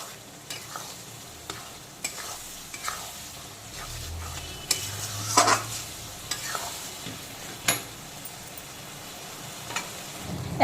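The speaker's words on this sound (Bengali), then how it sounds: "পুরো মশলাটাকে লো টু মিডিয়াম আঁচে অল্টারনেট করে করে কষিয়ে নেব" Spice paste for mutton curry is stir-fried on low to medium heat, with a soft continuous sizzle and a series of spatula scrapes and taps against the pan, close and unhurried, with no speech.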